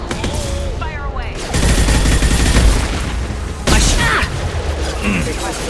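Mass Effect firefight with bursts of gunfire and booming explosions from rigged crates dropped from overhead transport carriers, loud dense volleys in two heavy surges, with voices speaking amid the shooting.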